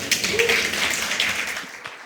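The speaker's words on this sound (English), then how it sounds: "A huge round of applause for sir." An audience at a press conference applauds with steady, dense clapping from a crowd that holds for a couple of seconds at moderate volume.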